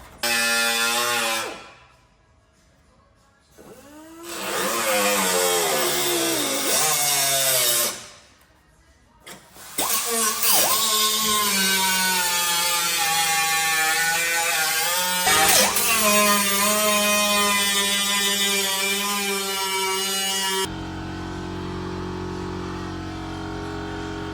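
A power tool cuts through a metal body panel on a Subaru GC8 project car, loud bursts of harsh grinding with two short pauses, then a long sustained cut before the noise shifts and drops.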